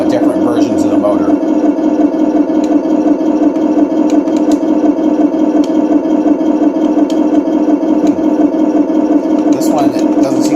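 A Heng Long 1/16 RC ZTZ99-A battle tank's simulated engine sound drones steadily and close, a constant idling rumble that barely changes over several seconds, with faint clicks and handling noises on top.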